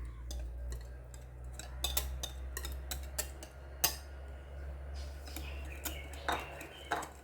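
A utensil taps and clinks against a bowl while egg is beaten for banana cake batter: irregular sharp knocks and chinks, some louder strikes, over a low steady hum in a quiet kitchen.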